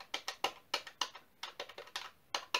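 Buttons on a Double Dragon 30th Anniversary plug and play controller click in quick, uneven bursts, a dozen or so sharp, close taps with a dry, keyboard-like sound and no voices.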